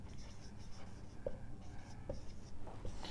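Marker or chalk writing on a board during a math lesson on number systems, short scratchy strokes in quick bursts with small pauses, fairly close and quiet, with faint background room noise.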